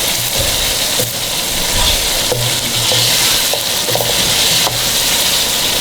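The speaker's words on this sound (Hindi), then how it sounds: "इसको मिक्स करेंगे अच्छी तरह, ज़रा मिक्स हो जाए, इसके अंदर फ्राई हो जाए हमारा चिकन" Chicken frying in a pan for homemade daleem, a loud continuous sizzle with intermittent stirring scrapes and low knocks throughout.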